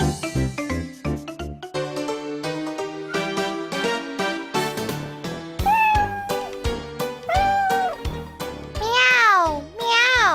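A cat in a children's tale meows several times, drawn-out and wavering, over light background music with busy plucked notes.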